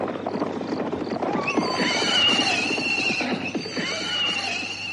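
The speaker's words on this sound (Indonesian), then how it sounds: "Kereta kuda itu sudah semakin dekat." A horse-drawn carriage approaches, with a horse neighing and whinnying loudly across several seconds over steady clopping hooves and wheel rumble, close and prominent.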